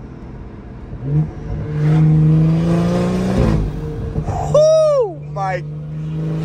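A car engine revs up through rising pitch and then blips sharply on downshifts, loud and close, with a brief spoken exclamation over it.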